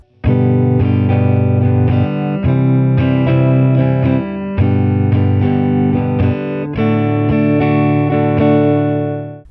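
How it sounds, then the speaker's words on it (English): A guitar strums a steady basic rhythm pattern for a song, full chords ringing with an effected, slightly distorted tone, loud and continuous with regular accented strokes and no voices. "Here's the basic pattern which you can use for the entire song."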